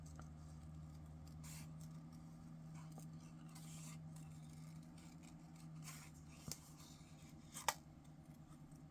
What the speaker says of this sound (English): Turn the paper, not the scissors.